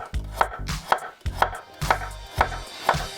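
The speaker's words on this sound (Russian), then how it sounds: "Морковку нарезаем на кругляшки." Steady knife chops slice carrot into rounds on a cutting board about twice a second, each a crisp, close thunk with a short ringing edge.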